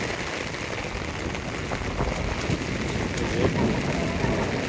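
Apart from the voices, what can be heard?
heavy rain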